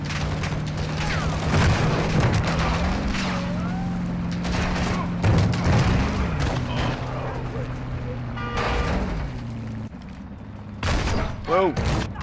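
Heavy booming gunfire, likely shotgun blasts, in Warzone 2.0 DMZ, mixed with game noise and a steady hum, with a person talking over much of it.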